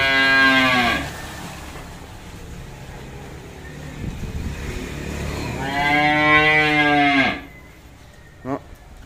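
Cattle mooing at a farm pen, two loud, drawn-out moos near the start and again midway, with quieter low ambient noise and a brief knock between them.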